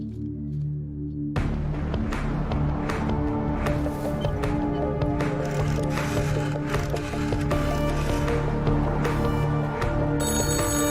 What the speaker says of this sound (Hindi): कैबिन का फोन लगातार बज रहा है।